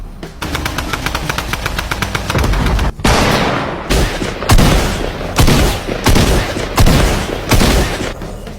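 Rapid automatic gunfire in a first-person shooter video game, loud and continuous at first, then breaking into separate heavy bursts with short gaps between them.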